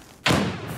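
A frag grenade lands with a single sharp thud in a competitive video game match, one close impact after brief quiet that then rings out and fades.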